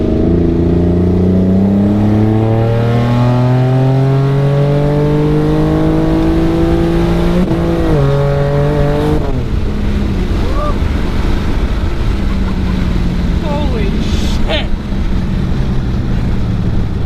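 A car fitted with an AMR turbo kit accelerates hard on a street, its engine roaring up through rising revs with audible gear shifts, loud and close, while people talk in the cabin over the engine.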